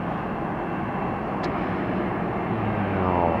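Airliner landing at Atlanta Hartsfield airport, heard from a distance as a continuous broadband roar of engines that swells slightly toward the end, with no talking.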